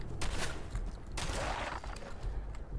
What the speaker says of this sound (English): I hear the shooting